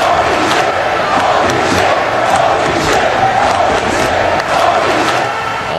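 A wrestling arena crowd in Tokyo roars and cheers in a continuous loud wash of voices, with scattered shouts rising over it throughout.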